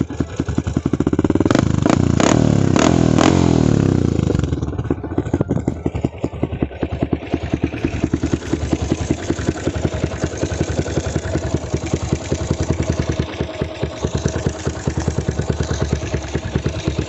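A Yamaha Spark 135 motorcycle fitted with a 62 mm piston and a very loud exhaust runs close up, with a brief rev at the start before settling into a rough, rapid, clattering idle that stays loud throughout.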